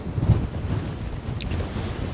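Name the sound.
wind blowing on Cheviot hill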